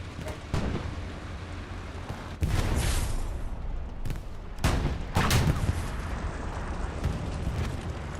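Heavy tanks trade cannon fire in a video game battle, with several loud booming shots and rumbling blasts spread across the clip, one more distant, over constant battlefield noise.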